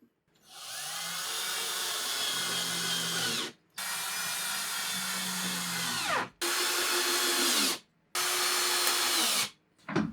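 A power drill drives screws into a backing support while fiberglass repairs are made on a vintage rocket ride, with four long, loud, close whirring bursts separated by brief pauses.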